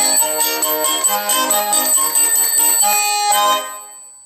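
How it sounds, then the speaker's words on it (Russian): Small bells on a Saratov accordion jingle in quick rhythmic bursts as bass and chord buttons are pressed sharply, bright and close, ringing out and fading at the end. "будут звучать и колокольчики."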